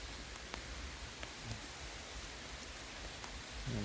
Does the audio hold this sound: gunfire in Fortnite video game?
no